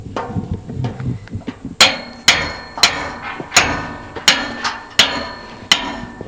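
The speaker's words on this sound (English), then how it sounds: "going to drive in the stakes and then we're going to tighten it up and be done" A hammer drives stakes into the ground to anchor the legs of a hunting blind outdoors: about ten sharp, loud blows land in a steady rhythm roughly every half second, after some softer preparatory taps.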